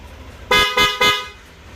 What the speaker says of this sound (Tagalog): Sige nga sir, busina mo.